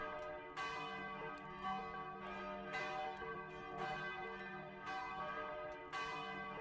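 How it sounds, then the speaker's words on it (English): A large bell in the video game Deathtrap Dungeon, struck repeatedly at a slow, even pace, each ring fading into a long shimmering hum; quiet and alone. "hold it against the bell. And slowly the bell stops vibrating"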